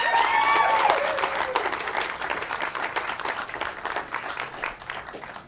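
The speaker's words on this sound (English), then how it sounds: "give them a big round of applause as they do join me" Audience at a magic show bursts into loud, dense applause that thins and fades over a few seconds.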